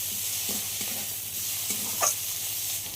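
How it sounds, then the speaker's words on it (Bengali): Chopped tomato and onion frying together in a pan, a soft steady sizzle with a few scraping stir strokes and one brief clink, close up and fairly quiet, no voices. "টমেটো পেঁয়াজের সঙ্গে খুব ভালো করে কষিয়ে নিতে হবে"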